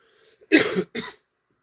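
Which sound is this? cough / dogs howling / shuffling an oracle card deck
cough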